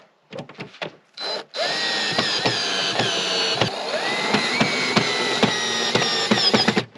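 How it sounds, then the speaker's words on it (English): A cordless drill driving Phillips screws into the chute assembly of a Greenworks 80V cordless snow blower, a few short bursts followed by a long sustained whine with slight pitch shifts, close and loud, without speech. "I just have a drill."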